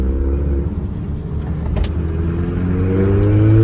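An Audi TTS accelerates, its engine note a loud, close rising drone with climbing harmonic tones building steadily over a few seconds.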